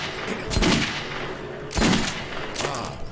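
Loud sniper rifle shots in Metro 2033 Redux, three sharp cracks spaced about a second apart, each with a booming echoing tail, close and clear with no talk.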